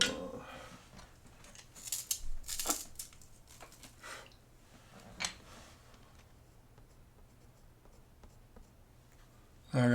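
Colored pencil shading a Bruce Lee portrait on paper, soft scratchy strokes in short bursts with pauses between, quiet and close, no talking.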